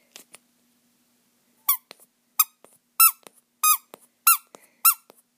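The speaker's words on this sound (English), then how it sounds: "Squeaks." Squeaky plush dog toy squeezed repeatedly, a few faint squeaks then six loud, close, sharp squeaks in a fairly steady rhythm, with no talking.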